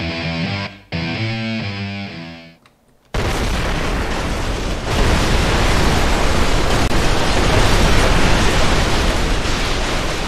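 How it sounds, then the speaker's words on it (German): A short melodic tune plays first, then stops. After that, a constant barrage of video game explosions follows the player, a loud, rumbling and crackling roar that continues to the end. "Überall, wo ihr hingeht, folgen euch Explosionen."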